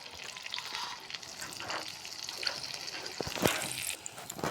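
Food fries in oil with a soft, continuous sizzle, punctuated by faint pops and crackles and one brief sharper spatter near the end.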